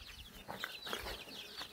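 Lakadenza chickens in a cage give a few soft, faint clucks in quick succession, with no one talking.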